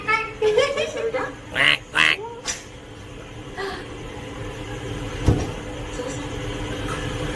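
A person imitates a duck, giving a few short, nasal quack-like bursts with pauses between them, followed by a sharp thump and a low steady rumble of background noise.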